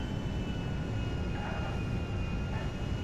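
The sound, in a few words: Concorde jet engines shutting down on landing, GTA 5 video game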